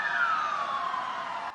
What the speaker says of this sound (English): Sirens cried through the streets.